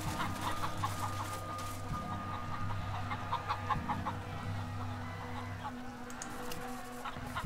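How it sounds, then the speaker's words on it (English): Chickens in the Wasteland 2 video game cluck repeatedly over a steady, droning game soundtrack, a loose flock of short calls at moderate volume throughout. "There's a bunch of chickens over here."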